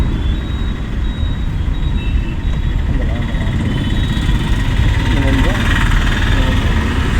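A car's engine hums steadily at low revs as it brakes gently to a stop with the clutch held down, a constant rumble with no clear speech over it.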